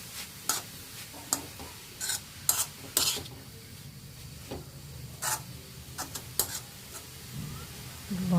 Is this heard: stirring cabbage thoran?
yes